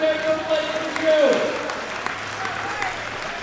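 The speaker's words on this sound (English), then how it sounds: "Give me a round of applause for Junior World Record taker Blake Review." An audience at a powerlifting championship applauds in a moderate burst of clapping that fades gradually, heard from across a hall while a voice talks over it.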